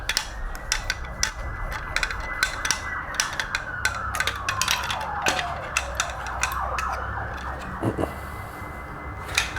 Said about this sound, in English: just in case that siren was too much